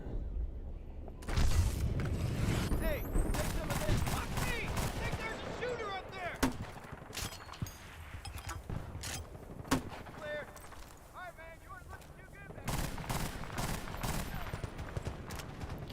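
Rapid bursts of gunfire from the Battlefield Bad Company 2 video game ring out through most of the stretch, loud and dense, with a quieter lull in the middle and a player talking over the shooting.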